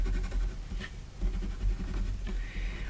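Dry watercolor pencil scratching steadily across paper, a close, continuous gritty rasp with small strokes and pauses throughout.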